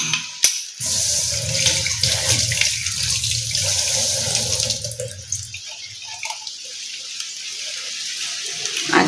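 A glass is washed under a running kitchen tap, with loud water gushing and splashing for several seconds before easing into quieter trickles and clinks.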